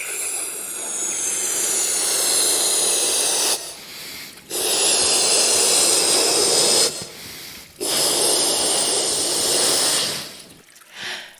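Someone blows air into an inflatable toy, making long, close, breathy rushes of air, three sustained blows separated by brief pauses and a softer puff at the end, with no speech.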